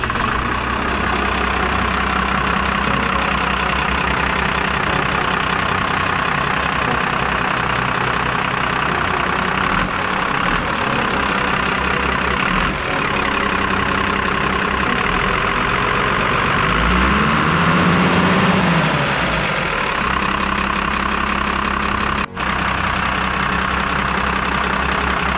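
A Cummins 6BT 5.9 turbo diesel swapped into a bus idles steadily and loudly up close, its low throbbing clatter continuous throughout with only slight shifts in tone.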